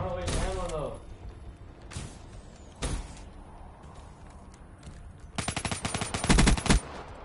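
Gunfire rings out in a console shooter game, with a loud opening shot, another sharp report partway through, and a sustained rapid automatic burst near the end over a quieter game background.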